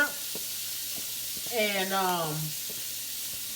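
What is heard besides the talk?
onion sizzling as it is added to a hot pot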